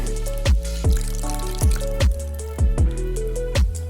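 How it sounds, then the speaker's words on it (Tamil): Tamarind pulp dissolved in water is strained through a sieve for a goat head curry, giving close, wet dripping and trickling with several heavier splashy plops at uneven intervals. "இப்போ வந்து புளியை வந்துட்டு கரைச்சி வடிகட்டிக்கிறாங்க"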